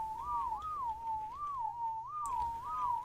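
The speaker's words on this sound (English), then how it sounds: "We're going to go for the old-fashioned whistle technique." Whistle command in the ARK survival video game: a gliding, warbling tone rising and falling in repeated loops, clear and steady over a low background hum, with no talk.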